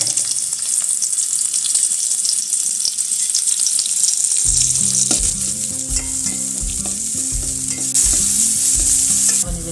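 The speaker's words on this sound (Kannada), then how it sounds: "ಅರ್ಧ ಸ್ಪೂನ್ ಎಣ್ಣೆ, 2 ಈರುಳ್ಳಿ ಕಂದು ಬಣ್ಣ ಬರೋ ತನಕ ಹುರಿಬೇಕು." Two onions fry in half a spoon of oil until brown, a loud continuous sizzle joined midway by rhythmic stirring and scraping in the pan, with no talking.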